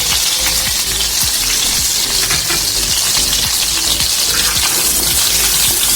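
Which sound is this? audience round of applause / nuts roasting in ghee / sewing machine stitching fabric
nuts roasting in ghee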